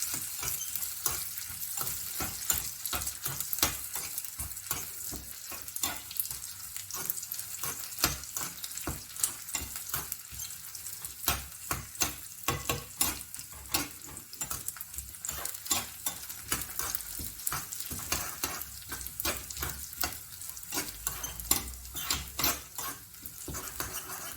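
Red chilies and shallots fry in a small pan over reduced heat, a continuous close sizzle broken by dense, rapid scraping and clinking of a utensil stirring against the metal.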